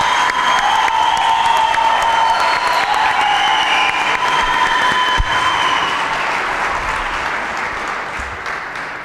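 Warm audience applause in a television talent-show hall after a song, loud continuous clapping from a large crowd that holds steady and then slowly fades over about nine seconds.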